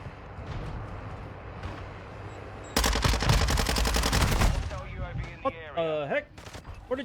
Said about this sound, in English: Somebody's behind our line shooting at us there.